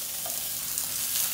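Salmon fries in a hot pan, giving a steady, close, continuous sizzle with no pauses or voices.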